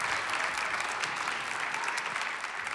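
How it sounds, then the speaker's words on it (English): A crowd gives steady, dense applause at a downtown Mesa civic gathering, an even wash of many hands clapping without pause, no voices standing out. "applause for them"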